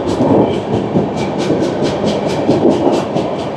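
Shatabdi Express running from New Jalpaiguri to Howrah as it enters Sainthia Junction, recorded from inside a Vistadome coach: a steady loud rumble with regular clickety-clack wheel beats over rail joints, continuous with no talk.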